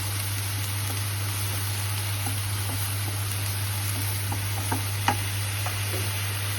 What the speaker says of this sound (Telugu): కొంచెం పచ్చి వాసన పోయేదాకా వేయించుకోవాలి ఉల్లిపాయ ముద్ద